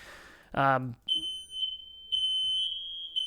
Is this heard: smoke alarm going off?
yes